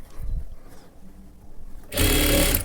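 Sewing machine running a fast continuous burst of stitching as piping is sewn onto a blouse neckline, loud and close, following quieter handling rustles.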